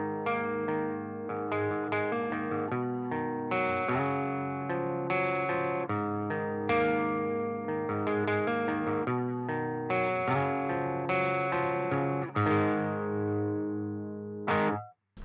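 Electric guitar played through a Bogren Digital Ampknob with the gain pulled back, giving a slightly broken-up, crunchy tone; a steady run of loud, close strummed chords and riffs, ending with a brief cutoff.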